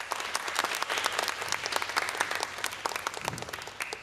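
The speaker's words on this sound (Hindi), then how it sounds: "उनके इंट्रोडक्शन से पहले ही उनके लिए तालियां" Loud, dense applause from a sizable talk show studio audience, sustained throughout with no voices on top.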